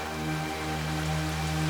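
Heavy rain pours down in a steady, dense hiss with no pauses, joined by a faint low hum and no voices.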